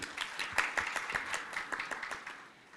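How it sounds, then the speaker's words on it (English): An audience claps in a last round of applause for the panelists at the AfPIF 2026 peering and interconnection forum. The sustained, moderately quiet patter of many hands tapers off toward the end. "A last round of applause"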